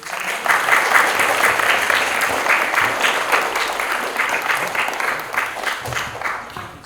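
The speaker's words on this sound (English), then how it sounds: "Can we give a round of applause?" Schoolchildren and staff in a school hall give a warm round of applause at a community art celebration assembly, a full, continuous clapping that swells at the start and fades gradually over about seven seconds, with no talking over it.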